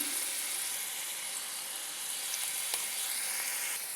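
Curry leaves, onions, green chillies and broad beans fry in a pan, giving a steady, even sizzle with faint crackles and occasional light pops throughout.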